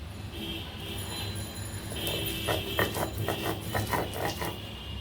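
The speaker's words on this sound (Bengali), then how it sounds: "এই যে শিলনোড়া আমি এগুলো সুন্দর করে বেটে নেব" Spices are ground on a shil-nora grinding stone, a rough rubbing scrape that turns into a quick series of rhythmic strokes, heard close and alone.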